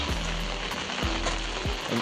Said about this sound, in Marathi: हा बघा परत सगळा पाऊस आलाय